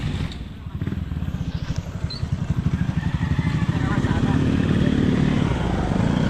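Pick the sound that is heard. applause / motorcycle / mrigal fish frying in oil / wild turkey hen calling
motorcycle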